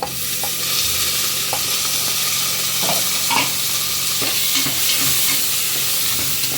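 Tomato sizzles loudly in a pan of frying garlic as it is stirred. The sizzle is a steady, close hiss with occasional clicks of a utensil against the pan, and no one speaks.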